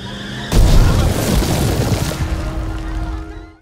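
A car crashing into a wall in a dramatic film scene, a sudden loud booming impact followed by a long rumbling, crunching decay that fades out after a few seconds.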